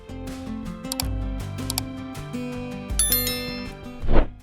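A bright notification bell sound effect, with short metallic dings and clinks scattered over a plucked tonal backing, ending in a louder swell.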